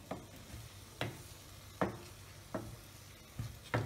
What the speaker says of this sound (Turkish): karıştırıyorum